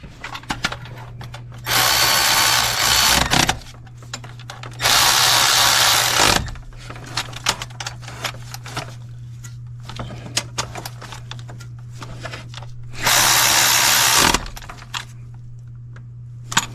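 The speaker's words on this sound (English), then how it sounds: "So now I'm going to tighten this bolt." A power tool tightens a bolt on a Dodge Sprinter van's turbo tube, three loud whirring bursts of a couple of seconds each separated by pauses with small metallic clinks and a steady low hum underneath.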